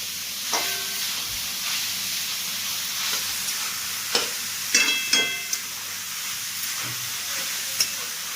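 Grated carrot sautéing in ghee in a pan while a spoon stirs it, giving a soft continuous sizzle with scattered scraping clinks and taps, close and unaccompanied by talk.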